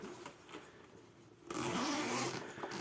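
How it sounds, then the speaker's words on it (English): Zipper on a Steam Deck carrying case is pulled open, with a quiet rustle first and then a loud, smooth continuous zip lasting over a second, close to the microphone. "As far as zips go, it's very nice. Nice fluid motion on there."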